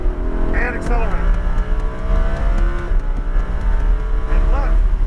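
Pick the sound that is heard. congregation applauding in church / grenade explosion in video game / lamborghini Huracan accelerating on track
lamborghini Huracan accelerating on track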